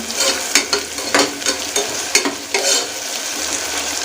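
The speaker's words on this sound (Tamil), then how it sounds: "இது எல்லாத்தையும் நல்லா வதக்கி எடுத்துக்கிறோம்" Onions and green chillies sautéing in oil for beef biryani, a loud close sizzle broken by repeated rhythmic spatula scrapes and stirs, no talking.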